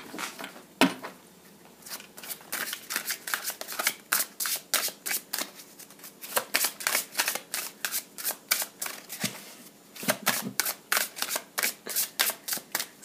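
A deck of playing cards being shuffled repeatedly in quick riffling bursts, close and crisp, with a steady rhythmic flutter and short pauses between shuffles, no voices.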